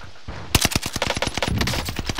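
Rapid automatic gunfire in a video game crackles in a dense, evenly spaced burst of sharp, loud shots after a brief quiet start, with no talking.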